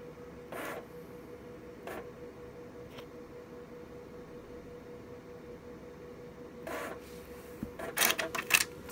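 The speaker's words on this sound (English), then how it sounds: "we should receive a printout from the printer. It does take a while to print." A thermal printer on a fire alarm panel prints an event, giving faint scattered clicks before a closing burst of quick, louder feed chatter over a quiet hum.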